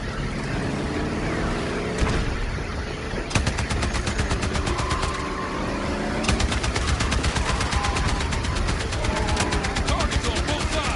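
Sustained automatic gunfire from a Battlefield 6 campaign battle rattles in fast bursts over a constant engine rumble, with voices talking over the shooting.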